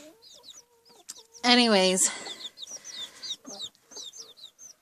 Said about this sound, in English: all the chickens around and all the crowing